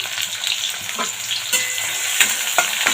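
Onions frying in white oil in a kadai for a dhaba-style bhindi do pyaza, a steady close sizzle broken by the scrape and clack of stirring, with no talk.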